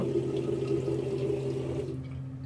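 Tap water runs steadily into a sink during rinsing, a constant close rushing with no talk, then it stops abruptly near the end.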